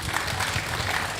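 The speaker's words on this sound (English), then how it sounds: "And applause." Audience applause following a panel talk in an amphitheater, a short, steady wash of clapping from many hands filling the space.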